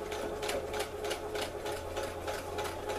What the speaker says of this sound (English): all I'm going to do is sew on that line, and don't forget to backstitch.